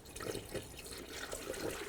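Antifreeze coolant pouring through a small funnel into a Chevy C/K truck's cooling system, a steady liquid trickle with soft gurgles and splashes, close and fairly quiet, with no talking.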